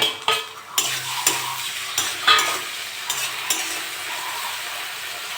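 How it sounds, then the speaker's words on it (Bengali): Prawns sizzle in hot oil in a pan with onion, green chilli and five-spice for a Bengali chorchori, and a spatula scrapes and knocks against the metal in irregular strokes, close and clear. "একটু ভেজে নেবো"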